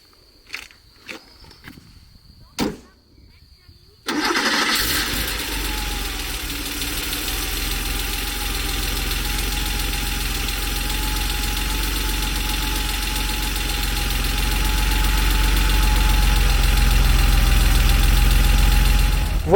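A 1988 Porsche 911 3.2 flat-six is cranked and fires up after a few faint clicks and knocks, then settles into a steady, rumbling idle that stays close and loud, gradually swelling slightly, with no talking.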